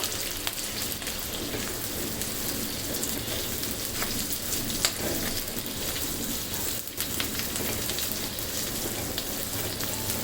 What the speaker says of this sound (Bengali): এখন এটাও দু মিনিটের মতন ভেজে নিচ্ছি